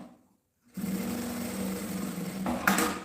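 After a brief silence, a sewing machine starts up and stitches fabric in a steady, close, continuous buzzing run.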